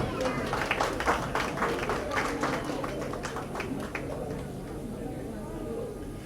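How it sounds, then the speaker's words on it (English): Audience clapping for the First Lady at a 2019 PCNI Orlando Branch induction ceremony, a fairly faint patter of many hands that is strongest at first and then fades over several seconds, with speech mixed in. "Please, a round of applause for the First Lady."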